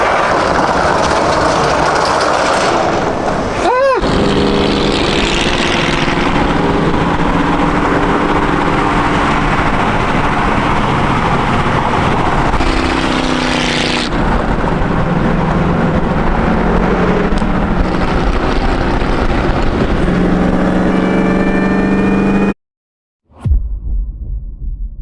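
A V6 Mustang engine that has sat rotting for a year cranks and then runs with a loud, steady rumble for a long stretch, with a rising whine and revving, cutting off abruptly near the end.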